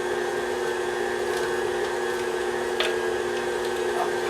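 An electric food grinder whirs steadily and loudly while grinding a pound of cranberries, a constant motor drone with faint ticking and clicking throughout and no talk.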